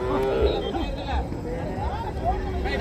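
Cattle low at a busy livestock market, a few drawn-out moos rising over a dense babble of traders' voices and people talking nearby.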